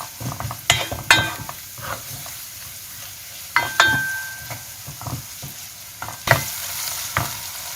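Food sizzling and frying in a pan while cooking Iranian gheimeh, a steady close hiss with repeated stirring scrapes and clicks of the utensil against the pan.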